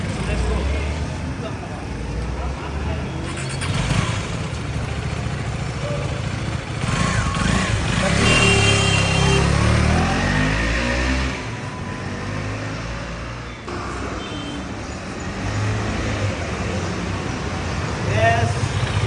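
A KTM Duke 250 motorcycle engine running on a test drive through Sikkim, steady road rumble with wind and traffic noise, rising and falling as it rides along, voices talking intermittently over it.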